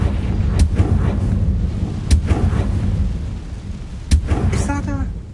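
A Confringo fire spell blasts in Hogwarts Legacy, booming loud over a rumbling background, with three sharp impacts spaced a couple of seconds apart and a brief tonal flourish near the end.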